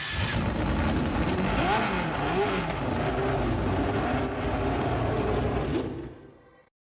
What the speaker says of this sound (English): It sounds really cool, whatever that engine is supposed to be.